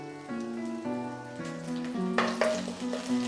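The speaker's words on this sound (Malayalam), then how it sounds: "എണ്ണ ഒന്ന് ചൂടായി കഴിയുമ്പോൾ കുറച്ച് കറിവേപ്പിലൂടെ ചേർത്ത് കൊടുക്കാം" Curry leaves crackle and sizzle as they hit hot coconut oil in a kadai; a steady frying hiss runs throughout with a sharper burst of spitting near the middle, over a sustained melodic background.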